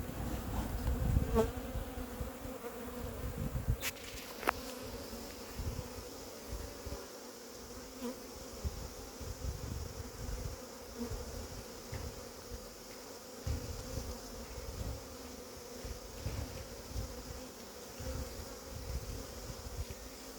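A dense, continuous buzzing of a honeybee swarm hums steadily throughout, with a few faint knocks near the start as the swarm is tapped down into a hive.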